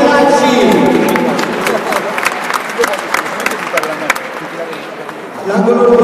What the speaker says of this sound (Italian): pubblico un applauso per Edoardo Michelacci